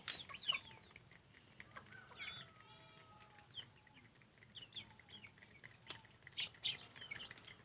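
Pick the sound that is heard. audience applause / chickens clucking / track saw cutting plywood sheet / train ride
chickens clucking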